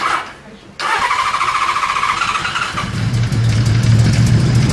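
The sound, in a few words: Kawasaki Z1300 motorcycle engine starting with throttle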